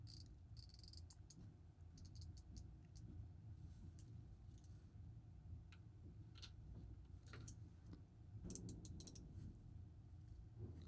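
A dive watch bezel, a Lorier Neptune III or Yema Pearldiver, is turned by hand in short bursts of faint, close, crisp clicks over a quiet room, with pauses between the bursts.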